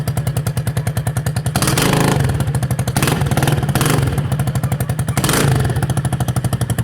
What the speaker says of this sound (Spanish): Así suena la DM200 sin escape.